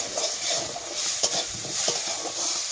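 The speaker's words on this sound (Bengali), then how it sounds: "আমি একটু তেল নিয়েছি, যেটা আমি একটু মুগ ডালটা ভেজে দেবো" Mung dal frying in a little hot oil for an aloo-cauliflower dish, a bright steady sizzle with occasional stirring scrapes, near and moderately loud.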